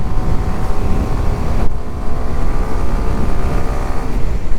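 A Kawasaki Ninja 125 engine, ridden and shifted through the gears without the clutch, drones loud and close under heavy wind rumble, with a brief break in tone near the middle where a shift lands.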